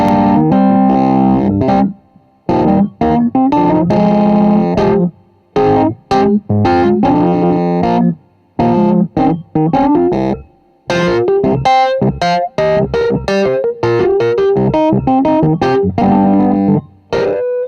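A Rhodes electric piano runs through the Vari-Amp amp plugin on its Gnarly Grit preset, giving gritty, distorted chords and notes. Phrases are played in loud bursts separated by short silences, with no voice.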